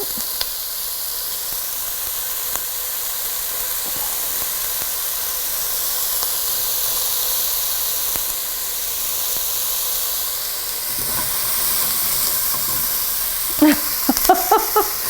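Onions cooking in a pot for carrot ginger soup give a steady, close steam-like hiss and sizzle, with a few sharp pops and spatters near the end.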